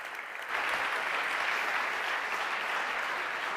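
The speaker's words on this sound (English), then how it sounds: "Round of applause, please." Applause at a business talk event on Patagonia, where a quiet room bursts after half a second into full, even clapping from the audience that holds steady and moderately loud to the end.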